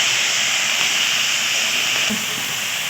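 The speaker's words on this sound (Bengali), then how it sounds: "এবার অল্প একটু জল দিয়ে এটাকে আমি ভালোভাবে কষাতে থাকবো" Summer vegetables with homemade lentil dumplings hiss and steam in a pan after a splash of water is added, a dense, continuous sizzling hiss, close and fairly loud, with a brief stirring knock near the end.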